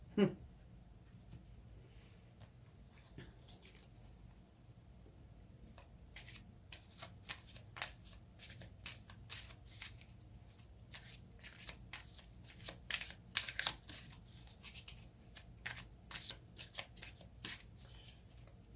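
Tarot cards are shuffled by hand in a continuous run of soft riffles and slides, close but quiet, with no speech over them.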